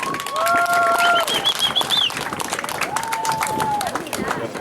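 A crowd at a high school pep rally in a stadium claps for a man being presented with a shirt, the applause mixed with cheering voices and several sharp whistle-like tones over the clatter.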